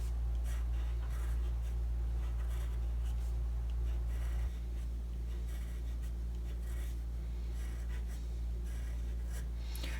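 Pencil drawing on paper, sketching teeth onto a Day of the Dead skull design, with soft scratchy strokes continuing steadily and close over a constant low background hum.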